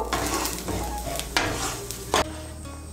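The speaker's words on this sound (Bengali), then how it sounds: "চালটাকে ভালো করে ভেজে নেব।" Rice sizzles and rustles in a hot pan while a utensil stirs and scrapes it, with a couple of sharp metallic knocks.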